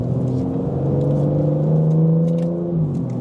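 Aston Martin Vanquish 2025 GT car engine rising and revving with a deep, steady rumble and strong low harmonics, close and loud throughout, with no voices over it.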